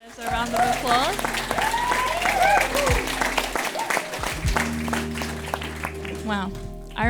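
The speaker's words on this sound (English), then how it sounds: "There's a round of applause." A church congregation applauds for several seconds, a dense clapping wash with voices mixed in and a low sustained hum underneath.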